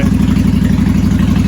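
Steady, loud high idle from a custom Honda VT1100 Aero motorcycle engine running on choke, its even throbbing pulse continuous and close throughout.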